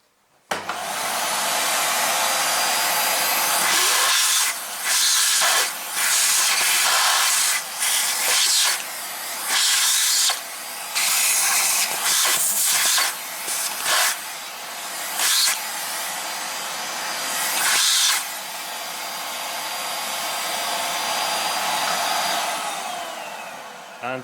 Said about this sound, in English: And now I take my vacuum cleaner.